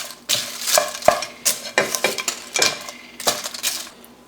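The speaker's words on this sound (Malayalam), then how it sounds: "എല്ലാം ഒന്ന് സോട്ടേ ചെയ്ത് കൊടുക്കാം." Vegetables for Kerala-style thoran with pappadam sautéed in a pan, a utensil stirring and scraping in repeated brisk strokes with metallic clinks over a light sizzle, close and clear.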